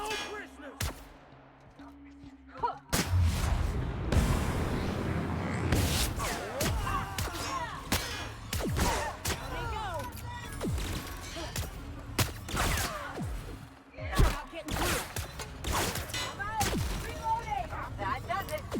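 A prolonged firefight in the video game Outer Worlds, with many sharp shots and clanging impacts cracking out at uneven intervals over a dense, steady layer of combat noise.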